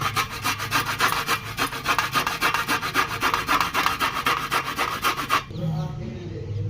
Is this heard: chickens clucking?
no